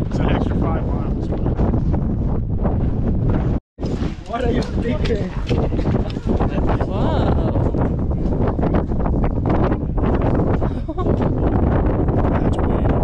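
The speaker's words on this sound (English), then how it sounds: "Wow, the wind is whipping." Strong wind roars across a mountain trail near Iceberg Lake and Ptarmigan Tunnel in Glacier National Park, buffeting the microphone in loud continuous gusts with one brief dropout, while people talk over it.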